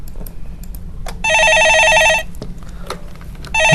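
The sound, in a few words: telephone ringing tone of an outgoing call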